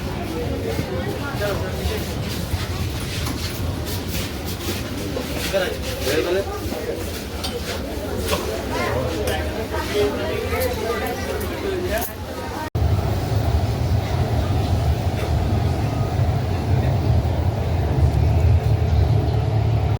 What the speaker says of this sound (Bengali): মেট্রো আসবে 5 মিনিট ছাড়া ছাড়াই আসে।